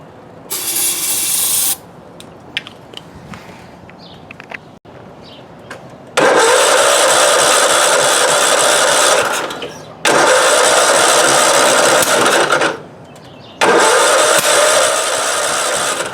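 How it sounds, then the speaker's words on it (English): A small Kohler Command lawnmower engine, failing to start, sputters to life in bursts after starting fluid is sprayed in, roaring loudly for a few seconds, cutting out, then revving again several times. "spray some ether down there, some starting fluid, and see if that'll fire it up"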